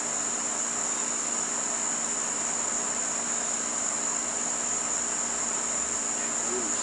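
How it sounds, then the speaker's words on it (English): Mosquitoes buzz at dusk beside a beehive in a steady, even insect drone. The sound is constant and moderately loud, with no talking. "Mosquitoes."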